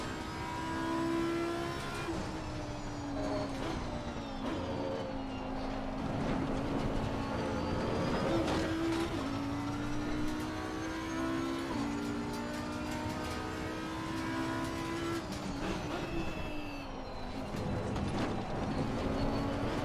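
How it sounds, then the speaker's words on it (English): Race car engine in Assetto Corsa Competizione revving hard through a corner exit under power oversteer, a loud continuous whining note that rises and falls with gear changes and throttle, with faint tyre noise and no speech. "Look at that wonderful power oversteer at the exit."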